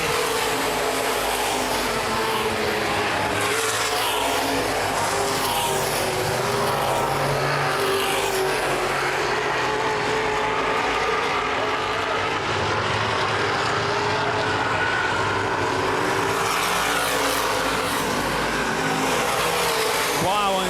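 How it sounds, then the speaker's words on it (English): Open-wheel modified race cars roar continuously at high revs at Baer Field Speedway, a dense loud drone of several cars with an announcer talking over it. "Both cars closing in on Wormcastle for a top 6 position"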